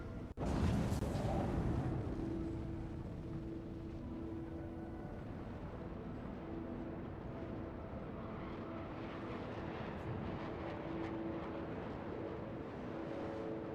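A spaceship in Star Citizen flies with a dense, continuous engine roar and rumble, loud at the start after a sharp onset, then holding steady throughout with no talk.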